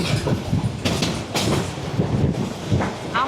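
Riding in the last coach of the Kalni Express from Dhaka to Sylhet, wheels thud over rail joints in a loud, rhythmic clatter beneath a constant rumbling roar and rattling carriage noise.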